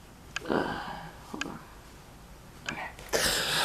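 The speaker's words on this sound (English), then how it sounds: "I gotta blow my nose" Several short bursts of nasal blowing and sniffing, close to the microphone, ending in a longer loud blow.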